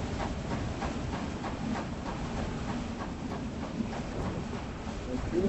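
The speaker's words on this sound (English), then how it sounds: "That damn train!" A train rumbles past with a rhythmic clatter and hiss, moderately faint and steady, with game-like background noise and no clear speech.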